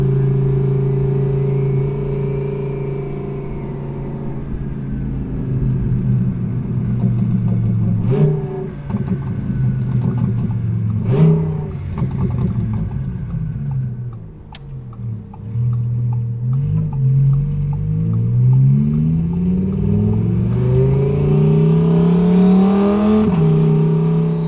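Twin turbo Audi R8 engine accelerating through repeated gear pulls, rising pitch sweeps broken by sharp shift cracks, loud and close from inside the car, with a final high-revving surge.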